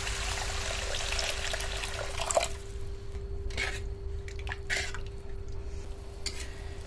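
Water poured into a pan of cooked spice masala for a pea kofta curry, a bright steady rush and splash followed by lighter drips and trickles, no talking.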